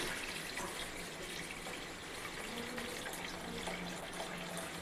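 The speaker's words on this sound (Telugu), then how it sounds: "ఒక 1/2 గ్లాస్ వాటర్ వేసుకోండి." A steady hiss of running water pours continuously, filling a cooking pot of fish curry at close range with no voices.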